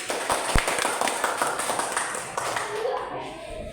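A group of children clapping their hands together in a classroom, a burst of claps mixed with chatter and classroom noise.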